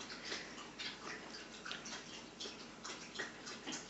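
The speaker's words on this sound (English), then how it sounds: "listening to a dog drink water" A dog laps water in quick, soft, rhythmic splashy licks, close and faint, repeating steadily throughout.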